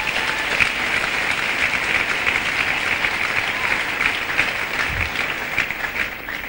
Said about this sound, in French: Allons-y, Allons-y, on peut acclamer, pourquoi pas.